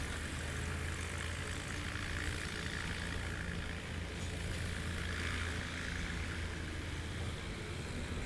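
Propeller aircraft at Patriot Airpark in Oklahoma during STOL practice, a faint, steady broadband drone with a low engine hum, distant and unbroken.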